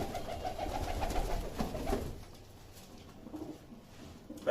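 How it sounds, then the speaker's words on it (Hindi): Pigeons coo softly through a low, murmuring background. The cooing is strongest in the first two seconds and then fades into quieter ambience. "बेहतरीन कबूतर।"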